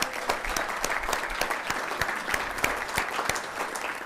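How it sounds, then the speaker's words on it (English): Applause from attendees at a city council meeting honoring an elementary school garden project, a steady crowd of clapping with distinct individual claps throughout, moderately close. "Give yourselves another round of applause."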